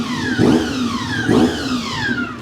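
A gear-driven, beltless Honda 400cc motorcycle engine revs twice, each burst rising into a high mechanical whine that sweeps up and down over a steady low drone.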